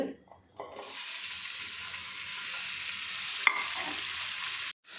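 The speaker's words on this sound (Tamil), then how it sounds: "அதை எண்ணெயை ஊற்றி வதக்கிக்கலாம்" A steady, loud sizzle of onion, tomato and garlic frying in hot oil, with the occasional scrape of stirring, running without a break for several seconds.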